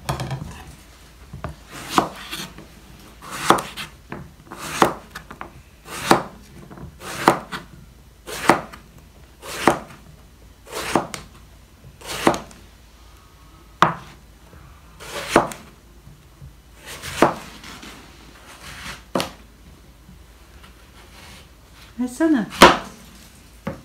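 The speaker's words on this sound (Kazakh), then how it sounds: "Енді баклажан турап жатырмыз." A knife chops eggplant on a board in regular, separate strikes about once a second, sharp and close, ending with a louder clatter.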